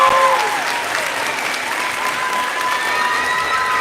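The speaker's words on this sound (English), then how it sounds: "Can we give them a big round of applause for all their hard work on their brand new instruments?" Sustained applause from a school concert audience cheering a middle school band on its brand new instruments at a winter concert, a steady, dense wash of clapping that stays loud and even throughout.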